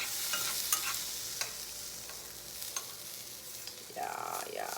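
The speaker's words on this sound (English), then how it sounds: "They're seared on both sides now, so I'm gonna turn these over, and these are gonna be seared." Food searing in a hot pan and being turned over, a continuous close sizzle with light scrapes and clicks of a utensil, swelling into a louder hiss near the end.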